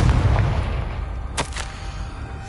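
A Confringo fire spell in the video game Hogwarts Legacy lands as a short pair of bright blasting pops over a low rumbling game background.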